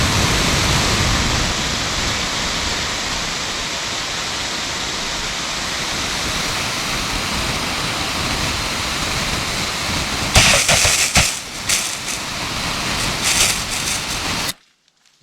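Garden hose spraying water hard at 6 bar pressure at a home, a loud steady close hiss of rushing water that holds throughout, with some spattering splashes near the end before it cuts off.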